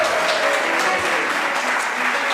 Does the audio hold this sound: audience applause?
yes